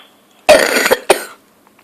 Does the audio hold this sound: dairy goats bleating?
no